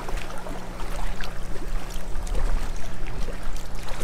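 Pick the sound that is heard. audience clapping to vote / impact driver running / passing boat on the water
passing boat on the water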